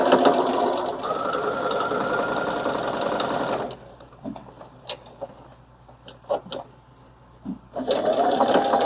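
A sewing machine runs steadily for several seconds while stitching stretchy fabric for a card wallet, stops for a stretch of faint handling clicks, then starts up again near the end; close and fairly loud.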